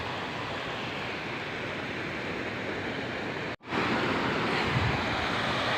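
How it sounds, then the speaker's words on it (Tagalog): Steady broadband rush of surf washing continuously at Bagasbas Beach in Daet, loud and close, with a brief dropout near the end before the roar resumes. "Nandito na tayo sa dagat."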